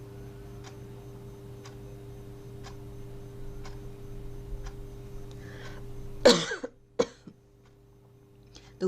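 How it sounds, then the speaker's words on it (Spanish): A single sharp cough close by, followed by a couple of smaller throat sounds, after a steady quiet ticking over a low hum. "me van a estar escuchando toser a cada rato"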